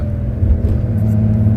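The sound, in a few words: loud Porsche 911 without muffler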